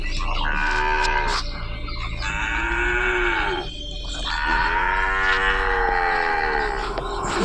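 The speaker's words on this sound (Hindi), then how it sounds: "उसी वक्त पीछे से एक बछड़ी की आवाज सुनाई देता है।" A calf mooing as a cartoon sound effect in a ghost cartoon, several drawn-out, loud, close moos with wavering pitch, one after another, alone with no talk.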